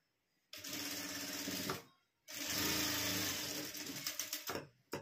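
A sewing machine stitches a straight seam on a blouse in two runs, separated by a short pause. The whir is close and steady, and the second run ends in a few quick stuttering bursts.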